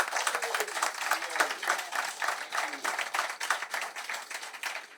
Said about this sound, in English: how about a round of applause for all these law enforcement officers that are here to help us